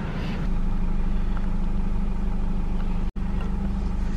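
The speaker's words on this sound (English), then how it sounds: "The car is still warming up." A 2022 Subaru BRZ idles while warming up, a steady low engine hum holding constant and close with no voices, broken only by a brief dropout near the end.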